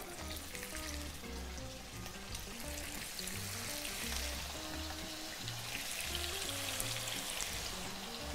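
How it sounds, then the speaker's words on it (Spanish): Pork secreto frying in a pan with a little oil, giving a steady, close sizzle and crackle that runs unbroken from start to finish with no voices. "Y ahora lo vamos a freír con paciencia. Que se dore."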